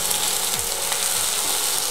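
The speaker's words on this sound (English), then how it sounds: "wait till the mustard starts to splutter" Mustard seeds spluttering in hot oil, a dense bright crackling sizzle with small irregular pops throughout, close and fairly loud, no voices.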